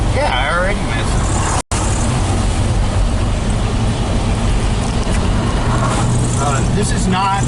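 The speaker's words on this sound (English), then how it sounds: "Truck goes down the road real good, real easy power steering" A 1983 Chevy 4x4 truck, 35 years old, cruising down the road with a steady engine rumble and road noise, and people talking over it.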